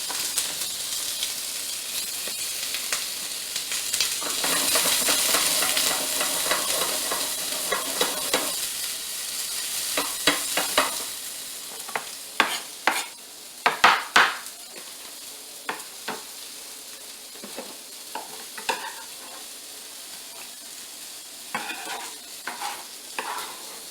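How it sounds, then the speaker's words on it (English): Tomatoes fry in oil in a pan with a steady broadband sizzle, louder during the first ten seconds, then softer with sharp stirring scrapes and clacks of a utensil against the pan. "So what I'm doing is I'm just like cooking off the tomatoes and I'll add some of the onions to it."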